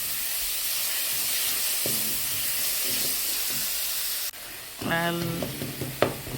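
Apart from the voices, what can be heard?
onions frying in a pan for wet fry pork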